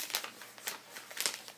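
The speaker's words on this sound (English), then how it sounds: "So you can see how thin this paper is. You can hear from the sound of it anyway." Thin, dry, delicate paper pages of an archival collection rustling and crinkling in a few short bursts as they are handled, soft and close with quiet gaps between.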